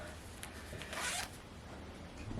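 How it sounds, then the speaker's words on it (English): A jacket zipper is pulled up in one smooth, bright rasp lasting about a third of a second, with a couple of faint clicks before it in an otherwise quiet room. "if I zip it up, I'm not being strangled"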